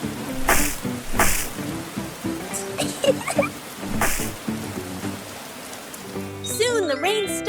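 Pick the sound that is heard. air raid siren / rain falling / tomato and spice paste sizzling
rain falling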